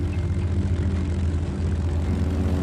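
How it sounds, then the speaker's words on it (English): Propeller engine of an Aichi Seiran floatplane roaring steadily as it launches from a huge wartime submarine, a dense, continuous low drone with no pauses, loud and close throughout. "The floats attached, and the Seiran launched into the air."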